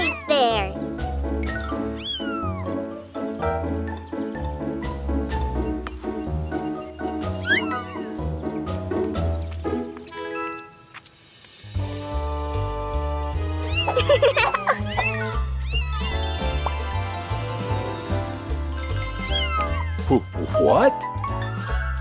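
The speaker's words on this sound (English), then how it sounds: "Mila, Morphle found the kittens. They are really cute" Cartoon kittens meow in a children's animated show, cute high-pitched mews scattered over a busy musical score, with characters talking throughout.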